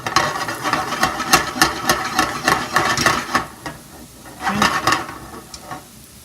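Raw mushrooms go into a pan and start cooking, with a run of sharp clatters and knocks as they land and shift against the pan, then a quieter sizzle as the activity thins out.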